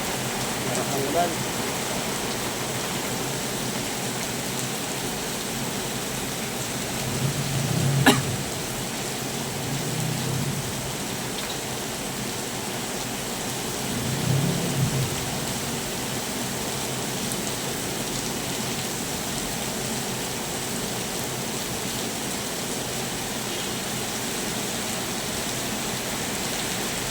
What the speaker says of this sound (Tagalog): Marap ang ulan.